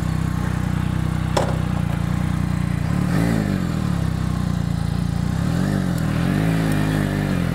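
Can-Am Spyder three-wheeler engine idling and revving up close, with a steady low rumble, a pitch rise around the middle and a couple more rising revs near the end.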